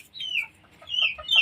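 Desi chickens cluck in two clear bursts as they wander into their farm shed at evening, near and distinct against an otherwise quiet background.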